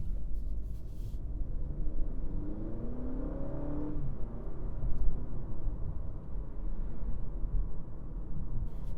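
2025 Honda Accord Hybrid Touring accelerating, heard from inside the cabin as a rising engine drone with simulated gear shifts, pitch climbing then dropping back around each shift, under steady road and wind noise.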